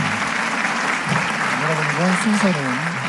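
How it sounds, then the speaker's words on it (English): A large rally audience applauds a speaker's vaccine address, sustained dense clapping throughout, loud and close, with a voice talking over it near the end. "Please join me in offering another round of applause to Professor Gilbert"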